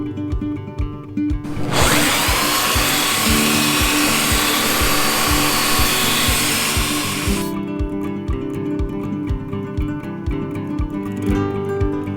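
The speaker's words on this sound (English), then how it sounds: "Got my even older Craftsman belt sander to finish the job." An old Craftsman belt sander roars loudly and steadily against a wooden tabletop for several seconds, framed by a rhythmic mechanical thumping motor before and after.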